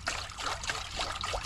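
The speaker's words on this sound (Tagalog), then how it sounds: "Lagyan natin ng tubig, pakulo lang tayo." Water poured into a cooking pot with ginger and tomato for a boiling broth, a steady close splashing trickle running continuously without pause.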